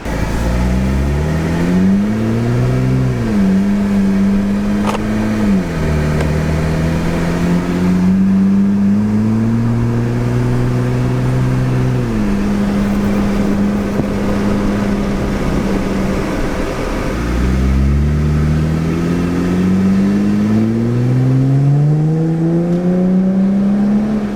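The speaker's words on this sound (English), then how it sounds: "It's got kind of just like a low rumble when you slowly accelerate" A Jeep Gladiator fitted with a DIY exhaust accelerates on a test drive, its deep engine rumble repeatedly climbing in pitch and dropping back at each gear change. It sounds loud and steady from inside or near the vehicle.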